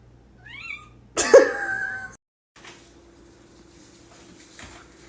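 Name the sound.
cat meowing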